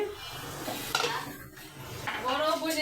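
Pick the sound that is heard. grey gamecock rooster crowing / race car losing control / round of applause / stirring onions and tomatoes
stirring onions and tomatoes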